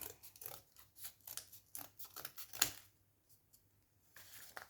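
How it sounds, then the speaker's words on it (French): Scissors snipping material for a handmade shelf craft, a quick series of soft close cuts in short bursts with pauses, quiet and alone. "Je coupe bien tout."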